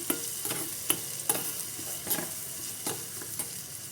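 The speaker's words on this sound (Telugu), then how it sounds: "ఇందులో ఒక 2 రెమ్మలు కరివేపాకు కూడా యాడ్ చేసుకొని మీడియం ఫ్లేమ్లో ఫ్రై చేసుకోవాలి వీటిని." Two sprigs of curry leaves fry in a pan over a medium flame. A steady, close hissing sizzle runs under regular soft scrapes of a spatula, with no speech.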